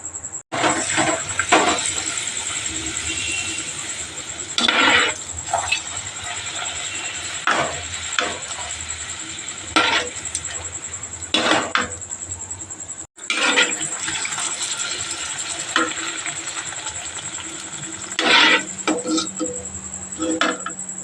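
Luchi deep-frying in a pan of hot oil: a loud, steady hiss that flares in bursts, with a brief break around the middle before the sizzle resumes.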